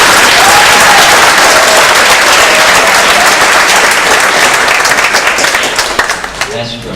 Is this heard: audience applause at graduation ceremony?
yes